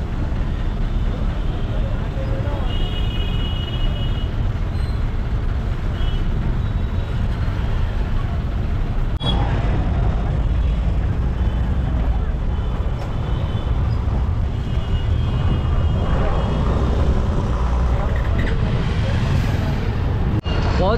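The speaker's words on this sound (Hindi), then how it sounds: "बहुत ही खतरनाक ट्रैफिक है भाई" Heavy road traffic in Salalah rumbles steadily, a dense low drone of cars, buses and trucks with passing engines near and far and occasional horns.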